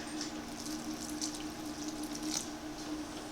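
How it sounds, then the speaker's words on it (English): Roughly one and a half cups of water poured into thick oat-based liver dog brownie batter, a steady close splashing trickle running without a break and with no one speaking. "it's already getting too thick for me, so I'm going to go ahead and add some water."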